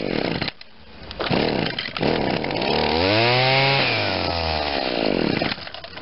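A two-stroke engine on an Echo SRM-2100 string trimmer with a carburetor fault sputters at idle, revs up into a loud whine, sags back down and falters, heard up close.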